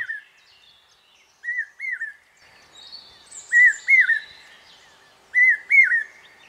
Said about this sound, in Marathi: पावसा पक्षी वरुणराजाच्या आगमनाची वर्दी देतो आणि ओरडून सांगतो